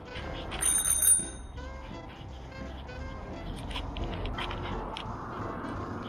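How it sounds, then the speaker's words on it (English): A bicycle bell gives one short bright ring near the start, loud and close, followed by steady outdoor street noise while riding along a bicycle strip. "Let's see how people behave when I ring the bell."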